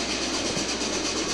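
An EMD diesel locomotive train rolls steadily on rails, a dense continuous roar of wheels and clickety-clack close by, with no speech.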